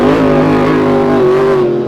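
The Miss Merion hydroplane race boat with its 265 cubic inch engine drones loudly and steadily, a rich harmonic engine tone holding pitch with a slight rise, close and unbroken by talk.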